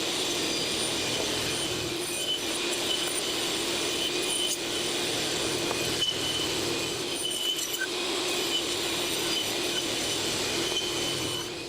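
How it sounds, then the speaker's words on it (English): A table saw trims wooden boards to width, a steady loud whirring hum with a high screeching cut tone running throughout, nearby and alone without talk. "So let's go over to the table saw"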